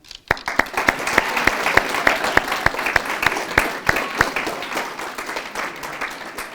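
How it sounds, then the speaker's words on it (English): A crowd gives volunteers a round of applause during a speech, with sharp distinct claps close by over a dense wash of clapping that slowly fades. "can we just take a moment and say thank you with a small round of applause to all of them?"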